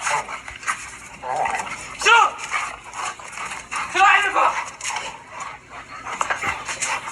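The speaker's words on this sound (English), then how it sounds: "here's an individual being attacked by a dog" A dog attacks a person, with barking and agitated yelps bursting out in two loud clusters amid clattering noise and a person talking throughout.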